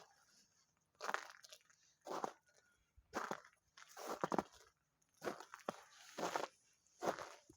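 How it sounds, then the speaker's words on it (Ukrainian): Footsteps crunch through snow in a village on a winter day, with about seven close, steady bursts of crunching in a walking rhythm and short quiet gaps between steps. "Хрум-хрум сніг."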